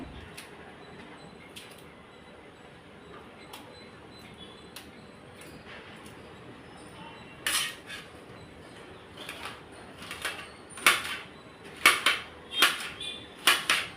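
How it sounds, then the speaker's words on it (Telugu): Okra being cut into small pieces with a knife, heard as light, scattered clicks that build to louder, sharper chops against the board toward the end, with no talking. "ప్రజెంట్ మనం వీటిని చిన్న ముక్కలు కట్ చేసుకోవాలి."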